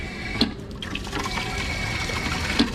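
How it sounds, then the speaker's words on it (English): Water runs continuously from an old Paris park drinking fountain, a steady splashing trickle close by with a couple of small clinks, on a hot summer day. "you're gonna get running water for a drink"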